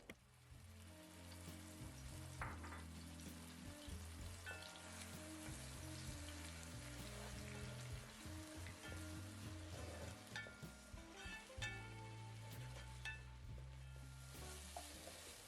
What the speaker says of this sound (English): Heat up 3 tablespoons of oil and add the ground paste. Keep frying this on a moderate heat till the oil separates.